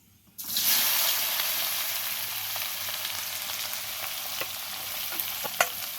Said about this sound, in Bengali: এবারে কিন্তু সয়াবিনটাকে বেশ খানিকক্ষণ টাইম নিয়ে আস্তে আস্তে কষিয়ে নিতে হবে